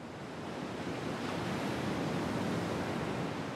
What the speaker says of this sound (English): the waves eat away at the earth and roots